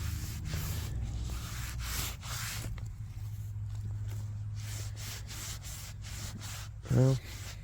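The top of a van battery is rubbed clean by hand, giving repeated close scrubbing strokes in uneven bursts, then a brief louder thump near the end.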